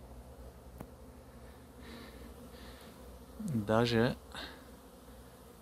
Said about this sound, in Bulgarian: но и там има движение на пчели